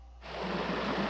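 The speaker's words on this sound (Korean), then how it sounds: "물소리." Flowing water starts suddenly after a short quiet moment at a Danyang campsite, then runs as a steady, full rushing stream.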